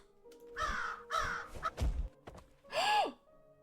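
A bird in the video game Habromania caws several times in harsh, close calls, ending with one longer squawk that bends upward then falls.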